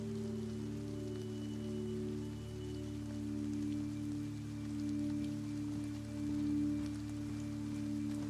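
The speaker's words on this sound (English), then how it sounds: "I could do without it raining" Steady rain falls throughout in the video game DayZ, a continuous soft patter over a constant low hum, moderate in level with no voices.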